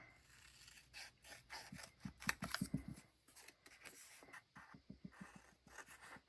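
Scissors cutting a sticker, close and quiet, with a quick run of crisp snips and rustles in the middle and softer, sparser cuts before and after.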